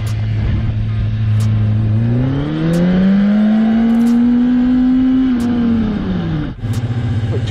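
A stunt motorcycle engine revs up steadily, its pitch rising and holding high for a few seconds before dropping back to idle, loud and close.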